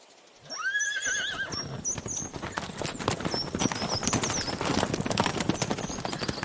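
Horses pulling a carriage, hooves clip-clopping steadily and loud throughout, with a horse whinnying near the start and faint rattling of the carriage beneath.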